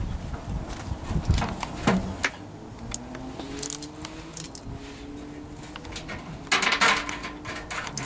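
Metal parts clink and clatter in scattered bursts as an indoor air conditioner fan motor is slid down into its bracket, with a sharp jangle near the start and another cluster of knocks toward the end.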